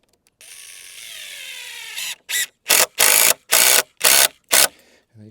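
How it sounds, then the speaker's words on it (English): A power driver sinks 75mm screws into beams on an off-grid build in Africa: a steady rising motor whine, then six short, loud driving bursts with clear gaps between them. "I'm fastening them in with a pretty small screw. It's a 75mm screw."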